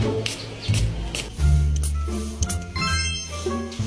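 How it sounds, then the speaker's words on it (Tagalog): A magic spray is misted onto stained clothing in a comic skit, giving several short airy hissing bursts over a busy background of clinks and rustles. "Kapag in-spray ko to sa damit mo, matatanggal yung mancha niyan."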